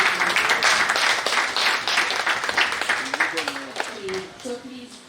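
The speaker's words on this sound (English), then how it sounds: "Please, let's give him a round of applause." Audience applause after a presentation at a national project management conference, a dense spread of clapping that thins toward the end while voices begin to emerge underneath.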